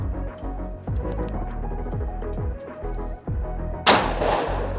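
A shotgun blast fired at a moving clay target on a sporting grounds shooting range, one sharp loud crack near the end of the clip after a stretch of rhythmic background music.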